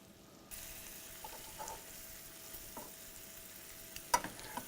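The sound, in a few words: thin pork cutlets sizzling in pan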